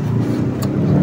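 A motorized tricycle's engine hums loud and close in a continuous steady drone, with no talking over it.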